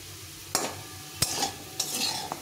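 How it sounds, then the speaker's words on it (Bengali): Spices fry in a little oil over lowered heat, with a soft steady sizzle. A spoon scrapes the pan three or four times, each stroke close and sharp. "এভাবে আস্তে আস্তে করে হিট কমিয়ে দিয়ে ভেজে নিতে হবে"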